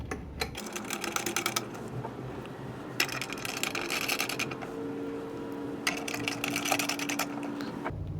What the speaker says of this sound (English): you just take a ratchet, a wrench, anything you have to go ahead and tighten these up